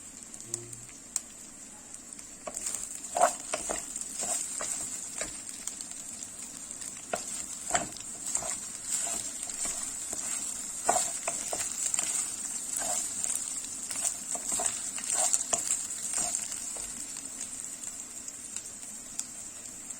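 Rice toasting in a pot for pilaf gives a steady bright sizzle throughout, with intermittent scraping and tapping of a spoon as it is stirred, close and moderately quiet.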